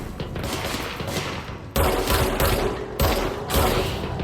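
Rapid gunfire in the video game Control, dense automatic bursts with heavy thumping impacts, loud and continuous with brief breaks between volleys.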